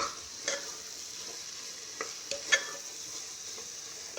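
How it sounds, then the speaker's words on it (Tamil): Eggplant curry with a little tamarind fries in a pan, a steady close sizzle broken by a few soft scrapes and knocks as a spoon stirs it. "இப்போது இதை நல்லா கிளறி விட்டுக்கோங்க."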